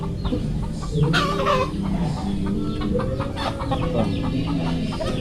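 Free-range chickens and roosters at a rural Philippine farm cluck and squawk together in a steady, busy chorus, with a couple of louder calls standing out from the flock.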